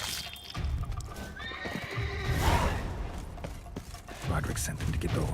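Horses in the video game The Witcher 3: Wild Hunt, Blood and Wine, whinny loudly amid clopping hooves and clanking mechanical noises, a busy, close scene with a voice briefly underneath.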